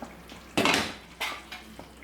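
A metal lid lifted off a cooking pot of simmering mixed vegetable kolhapuri curry, giving a clanking scrape followed by two lighter metallic knocks, close and brief, with no talking.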